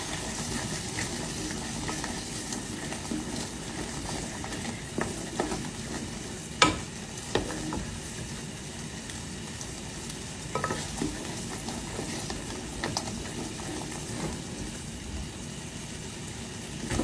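A pot of raisin pie filling bubbles at a steady low simmer on the stove as a tablespoon of unsalted butter goes in, with a soft continuous sizzle broken by a few clinks and scrapes of stirring.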